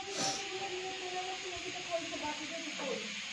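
Radish frying in oil in a covered pan on a gas stove, giving a faint, steady sizzling hiss over low background hum, with a brief louder hiss near the start.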